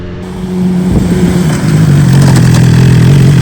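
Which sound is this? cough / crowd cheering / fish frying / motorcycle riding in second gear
motorcycle riding in second gear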